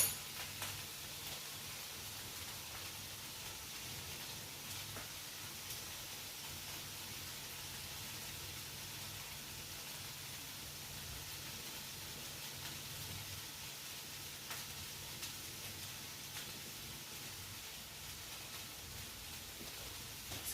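Hot paprika and onion powder fry in a pan with a faint, steady hiss and sizzle that carries on evenly throughout.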